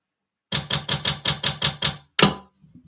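Eight quick, evenly spaced clacks of typing keys sound close and crisp, followed by a short pause and one last louder strike, then faint rustling.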